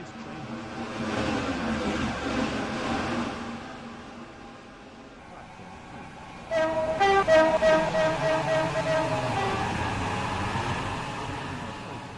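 A train in the Stepford Country Railway game rumbling past with engine hum, easing off midway before a louder horn-like tone and rhythmic clatter rises for the rest.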